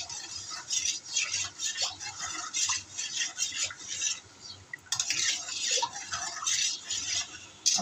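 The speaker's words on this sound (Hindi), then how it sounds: "4 टेबलस्पून रूह अफ़ज़ा लिया, इसे मैं मिक्स करके देख लूँगी।" A spoon stirring four tablespoons of Rooh Afza into a drink, clinking against the glass in quick repeated strokes with a short pause midway, close and fairly loud.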